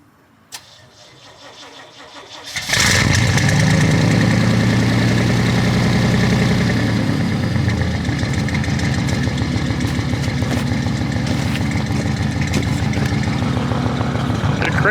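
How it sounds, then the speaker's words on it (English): A turbocharged throttle-body-injected 5.7-litre 350 V8 with a three-inch exhaust and no muffler cranks over slowly for a moment, then fires abruptly into a loud, steady, rumbling idle that holds to the end. "Cranked over slow, but it fired right up."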